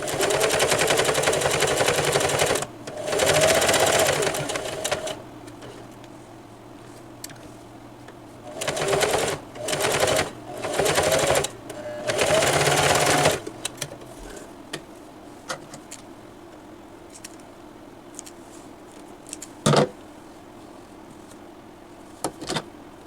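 Domestic sewing machine running a zigzag stitch set to 4 length and width on a purse lining, heard in several loud bursts of rapid mechanical whirring separated by pauses, then quieter handling noises and a single sharp click.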